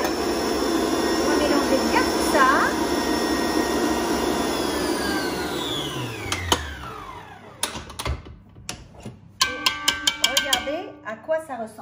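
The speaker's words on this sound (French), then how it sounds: "On va mélanger bien tout ça." Electric mixer whirring through lamb cake batter, a loud steady motor drone that slowly drops in pitch and dies away, followed by scattered clicks and clatter of the bowl and beaters.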